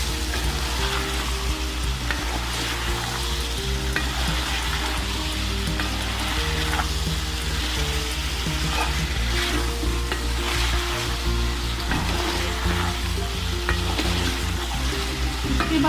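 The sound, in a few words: frying ingredients in pan for spicy chicken pasta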